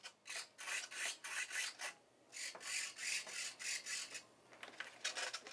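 An RC servo moves under a Lemon RC receiver with its gyro active, making a string of short raspy, buzzing bursts in an uneven rhythm, faint and close, with no voices.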